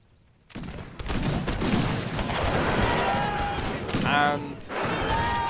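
Rifle volleys crackle in a strategy game set during the Mahdist Rebellion, a dense rolling fusillade of massed gunfire sustained throughout with brief whistling shots, loud and close, with game voices and commentary over it.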